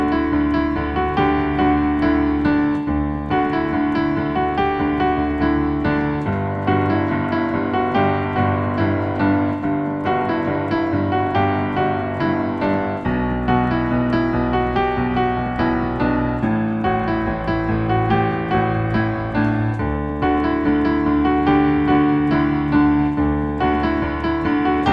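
Piano playing the left-hand chords for a song, steady sustained chords changing every few seconds, with a full, even sound and no talking.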